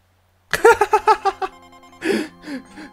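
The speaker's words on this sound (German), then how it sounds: "Ich mag den Klingelton." A phone ringtone from the game Paper Mario: The Thousand-Year Door, played on an in-game Game Boy Advance SP, chimes as a quick run of six bright, even electronic beeps, then a few softer tones.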